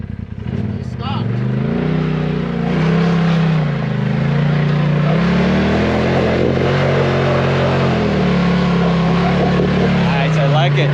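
Turbo-charged Polaris RZR Turbo S side-by-side with long travel, engine droning and revving steadily on a sandy Sand Hollow, Utah trail while its tires are warmed, loud and close throughout with voices talking over it.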